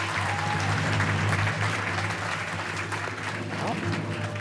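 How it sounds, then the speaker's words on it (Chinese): An audience claps steadily for the host at a Taiwanese variety-show magic performance, with dense, sustained applause and some crowd voices mixed in. "我们掌声献给我们的主持人"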